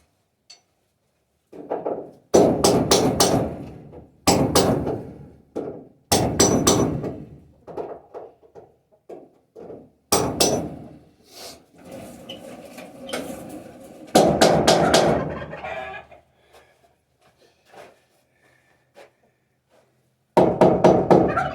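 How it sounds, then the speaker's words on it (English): Hammering in bursts of rapid sharp knocks, loud and close, separated by short pauses and quieter scattered taps, with no talking. "Y'all listen when I hammer."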